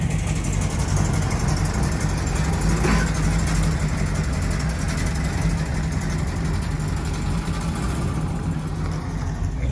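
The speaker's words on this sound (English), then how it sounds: "I'm going to ride in the formal sedan this morning with Mr. Meldrum." A steady, close engine idle, rumbling and even throughout, fits a 1948 Buick formal sedan waiting at an outdoor apple festival.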